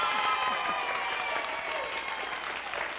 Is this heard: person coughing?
no